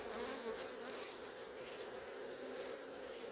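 Honey bees swarm around an open hive during a spring apiary check in Melbourne, making a steady, close, dense buzz throughout, with no voices.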